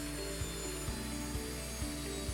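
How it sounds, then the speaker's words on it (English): A power drill whirs steadily while driving screws into a shutter frame, with a rhythmic ratcheting click repeating about every half second. "fully insert the rest of your screws."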